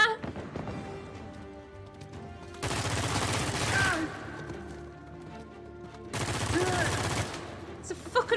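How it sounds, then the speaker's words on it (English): Sniper and heavy gunfire from the video game The Forgotten City, loud dense bursts of rapid shots in two long volleys separated by quieter game sound, with a voice talking over it. "Whoa! Sniper!"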